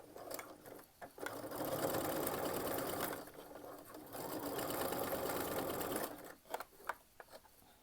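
A home sewing machine runs in two steady bursts of rapid stitching while back stitching over a seam on a fabric wine bottle gift bag, with a short stop between the bursts and a few clicks and handling knocks afterward.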